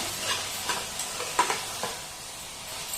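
Food for mutton gravy sizzles and crackles in a hot pan, with a few scraping stirs of a utensil; steady, moderately close, no voices.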